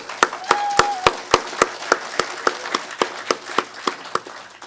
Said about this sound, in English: Let's hear a round of applause for Autumn.